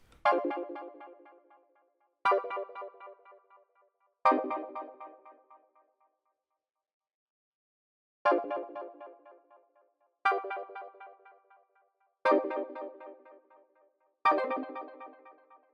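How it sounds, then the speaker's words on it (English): Plucky synth from Analog Lab strikes seven chords, each a bright attack that decays quickly, spaced about two seconds apart with one longer gap, clean and close. "the first sound that I started with was this plucky sound, which comes from Analog Lab"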